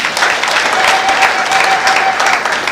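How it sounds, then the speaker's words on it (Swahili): An audience claps steadily and loudly for a few seconds in a dense, continuous burst of applause. "Naomba tuipigie makofi thamani."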